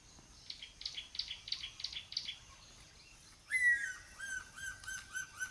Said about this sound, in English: Sounds of the birds of prey and other birds